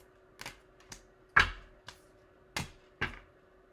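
Tarot cards being shuffled by hand give six crisp, separate taps and snaps at an uneven pace, close and fairly quiet against a silent background.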